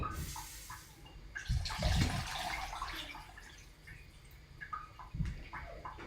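Water pours into a pot for homemade chicken broth, a close splashing gush that swells, tapers off, then returns in a short second pour.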